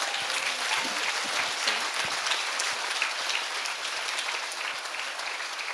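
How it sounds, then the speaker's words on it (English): A community gathering's audience breaks into dense, sustained clapping, an even wash of many hands heard at a moderate distance with no pauses. "I think we don't need the clapping in between."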